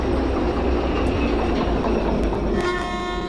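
Steady, loud rumble of a diesel locomotive engine running in the railway video game Derail Valley, continuous throughout with a faint tonal whine building near the end, no talking.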